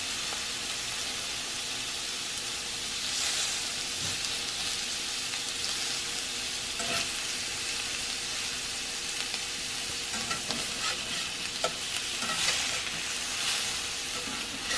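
Shrimp sizzle in a pan over medium-low heat, a dense continuous crackle with occasional scrapes and clicks as they are stirred and spread out; no voices.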